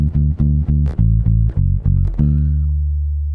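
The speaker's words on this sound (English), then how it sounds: "I was using my right hand to palm mute" Palm-muted bass guitar played with the right hand, giving a soft, dull, tied-down tone: a handful of short, thumpy plucked notes in a steady rhythm, close and alone, ending on one longer sustained low note.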